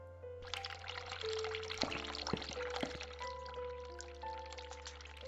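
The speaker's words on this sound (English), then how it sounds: "Run hot water tap." Hot water tap running in The Cat Lady video game, a steady pour of water into a basin with faint clinks and tonal hum, continuous for several seconds without speech.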